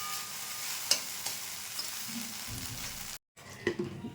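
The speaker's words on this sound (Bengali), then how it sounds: "ডিমটাকে আমি এভাবে ভেজে নিলাম।" An egg fries in hot oil in a pan, giving a steady close sizzle broken by a few light clinks of a spatula and a brief drop to silence near the end.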